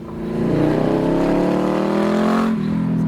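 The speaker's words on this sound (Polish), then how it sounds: "W dodatku grzmi niesamowicie, ponieważ ma zmieniony układ wydechowy." A Yamaha Vmax drag bike with a modified exhaust and no catalytic converters revs up hard, its loud engine note climbing steadily for a few seconds before dropping back.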